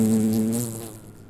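Fly buzzing close by in the video game Unforgiving: A Northern Hymn, a strong droning hum that passes from right to left and fades out quickly within about a second.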